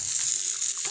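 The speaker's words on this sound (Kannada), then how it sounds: "ಇದಕ್ಕೆ 1 ಸ್ಪೂನ್ ತುಪ್ಪ ಮತ್ತು ಸಾಸಿವೆ ಜೀರಿಗೆ ಹಾಕ್ಕೊಂಡು ಸ್ವಲ್ಪ ಫ್ರೈ ಮಾಡ್ಕೊಂಡಿದ್ದೀನಿ." Mustard seeds and cumin fry in a spoonful of hot ghee, making a steady close hiss of sizzling oil with no speech and no distinct pops.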